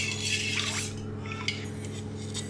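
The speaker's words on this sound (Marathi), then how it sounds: "ताक चांगलं ढवळून घेते आहे" Buttermilk with salt and sugar being stirred in a pot: a spoon scrapes and swishes for about a second, then a few faint clinks follow over a steady background hum.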